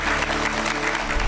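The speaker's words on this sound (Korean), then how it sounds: "박수로 맞아주세요." An audience applauds to welcome a speaker at a lecture event, giving brief, loud, continuous clapping up close.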